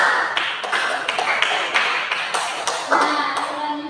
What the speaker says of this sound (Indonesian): Jadi aplaus setelah Ira.